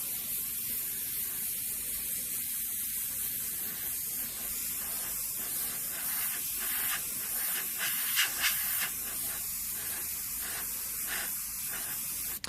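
An airbrush sprays paint onto a monotone portrait, giving a continuous close airy hiss that holds steady throughout with slight pulses in intensity, no voices.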